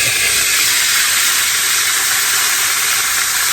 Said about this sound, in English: salt pork has a tendency to really pop. The grease will pop.